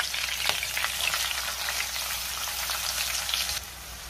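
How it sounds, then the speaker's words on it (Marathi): Chopped onion sautéing in hot oil in a pan with green chilli, a steady close sizzle and crackle with faint stirring scrapes, no talking. "कांदा मी 2 मिनिटं व्यवस्थित परतून घेणार आहे"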